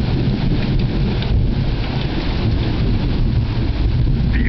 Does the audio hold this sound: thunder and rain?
yes